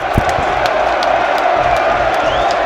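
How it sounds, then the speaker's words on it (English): Applause from the commentary gallery at an FC United vs Worcester City football match, a steady wash of clapping and crowd noise with scattered shouts that runs without a break. "a round of applause from everyone in the commentary gallery"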